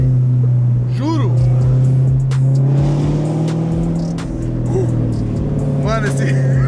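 A blue Corvette's engine rumbles loud and steady up close, holding a deep constant drone with slight swells as it revs, while people talk excitedly over it.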